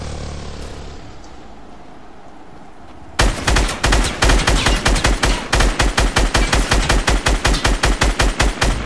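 Fortnite gunfire: after about three seconds of low, quiet background, loud rapid shots break out in steady repeated bursts that carry on to the end, with no talking.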